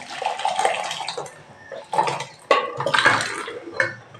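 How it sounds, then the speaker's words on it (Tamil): Kuzhambu curry is poured from one kitchen vessel into another, producing irregular splashing and sloshing with a few clinks of metal pots, close and moderately loud. "குழம்பு தூக்கி இதில் ஊற்றி"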